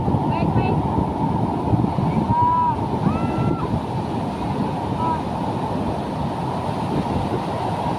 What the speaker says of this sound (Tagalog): kahit gaano katataas ng alon, ayan, pagdating doon sa part na yun, binibreak niya na